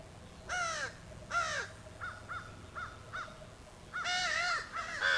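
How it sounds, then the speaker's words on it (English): An upset male crow caws repeatedly outdoors by a brook: two long harsh caws, then a run of shorter clipped calls, then more loud overlapping caws, close and insistent. "that's a male crow, and he's upset about something."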